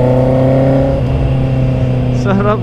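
A Honda CB650R motorcycle accelerating hard with its quick shifter: a loud, steady engine drone whose pitch drops at a quick gear change, with a voice briefly heard near the end.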